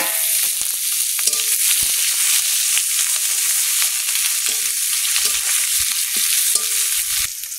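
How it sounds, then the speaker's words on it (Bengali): Bitter gourd fries in hot oil in a pan, a loud continuous sizzle broken by occasional stirring knocks and scrapes, with no talking. "কড়া গরম হয়ে গেছে, উচ্ছেগুলো ভেজে নেবো।"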